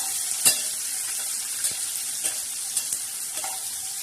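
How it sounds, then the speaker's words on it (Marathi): Onions and tomatoes frying in a pan sizzle continuously, while a spoon stirs with occasional clicks and scrapes against the pan. "हे बघा असं छान गरा गरा मस्त हलवून घ्यायचं"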